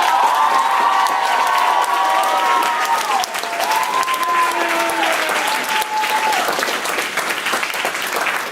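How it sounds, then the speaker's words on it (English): An audience claps and cheers for student performers after a school staging of Hamlet, loud sustained applause with whoops and a few voices calling out over the crowd. "So let's give them another round of applause."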